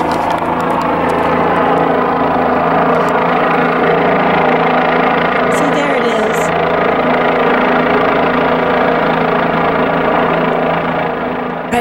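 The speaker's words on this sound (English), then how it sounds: "I think this is a news helicopter here." A news helicopter flies overhead near a sinkhole and rockfall site, its loud, steady engine and rotor drone filling the whole stretch without a break.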